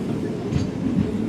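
Onboard the Tungabhadra Express between Secunderabad and Kurnool, a steady, close rumble of the train rolling on the rails fills a brief moment.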